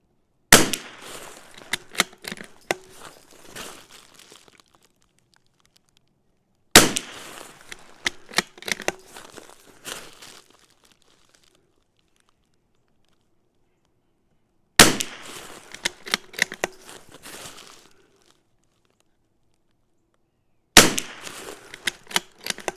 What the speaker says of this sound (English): Well, I can say for a CZ457, I'm sure the gun shoots good.